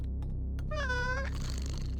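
A cat in the video game Nuclear Blaze gives a single drawn-out, tonal meow in the middle, with faint clicks and a low steady game hum around it and no voices.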